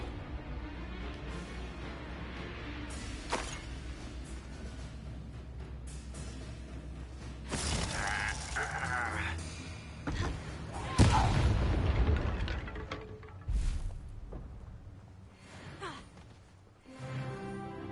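Spell effects from Hogwarts Legacy, with Glacius freezing and Confringo fire blasts, boom and crash in a combat mix over a steady game soundscape, with heavy impacts clustered midway.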